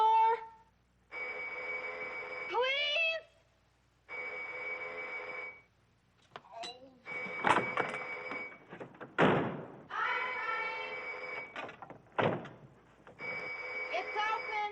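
Someone rings a doorbell over and over in an irregular, telegraph-like rhythm, with bursts of bright ringing broken by short pauses, close and clear inside a home. Door thumps and a brief spoken word come in between the rings.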